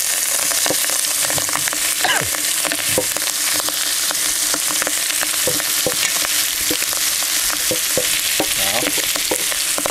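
Food is stir-fried in a hot pan, with loud constant sizzling and frequent sharp scrapes and clanks of a utensil tossing the ingredients in an uneven rhythm, close and prominent, while someone says a brief word.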